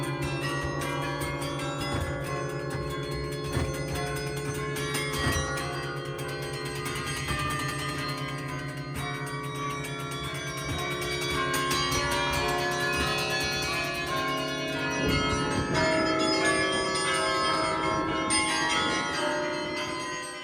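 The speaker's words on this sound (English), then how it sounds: "watch how he brings out the sound of this amazing collection of historic and newer bells" Carillon in Ghent, Belgium, a collection of historic and newer bells played from a keyboard in a cabin, ringing a continuous melodic peal of overlapping struck tones with long sustained resonance, steady and full throughout.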